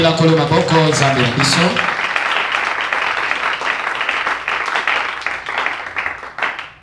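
Church congregation clapping and cheering after a sung phrase, a dense burst of applause that carries on for several seconds, with voices mixed in.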